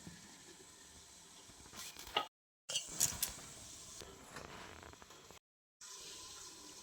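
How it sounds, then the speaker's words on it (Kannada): Water pours and splashes into a mixer grinder jar holding ragi and grated coconut in a steady hissing stream, interrupted by two brief cuts of silence. "ಇದಕ್ಕೆ ಸ್ವಲ್ಪ ನೀರು ಹಾಕಿ ನುಣ್ಣಗೆ ರುಬ್ಬಿಕೊಂಡು ಬರ್ತೇನೆ"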